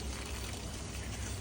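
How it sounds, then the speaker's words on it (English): Water gushing steadily from the release valve of a fresh-water tank being drained, a continuous close broadband splashing rush with no pauses. "so there's this like release valve right here, and you can see it's pouring out all the water"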